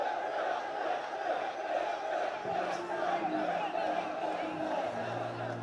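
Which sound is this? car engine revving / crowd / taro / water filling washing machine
crowd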